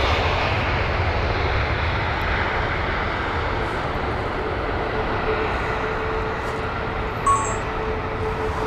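A plane at Heathrow Airport produces a loud, steady jet engine roar that fills the whole stretch, a broad rumbling hum with no talking over it.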